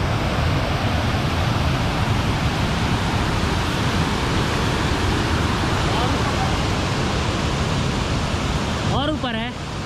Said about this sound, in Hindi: दहरा रानी दहरा वाटरफॉल। देखो कितना तेज आवाज़ आ रहा है।